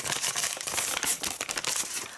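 Plastic pharmacy delivery bag crinkling and rustling steadily up close, a dense run of crackles with brief sharper crunches, no voices.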